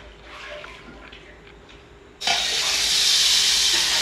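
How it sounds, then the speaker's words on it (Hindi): Sambar comes to a boil in a pot at home, a low bubbling murmur that gives way to a loud, steady hiss partway through, close and continuous. "अभी तो बलक ही रहा है सांभर।"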